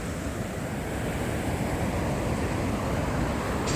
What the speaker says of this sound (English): when you're at the water's edge on breaking waves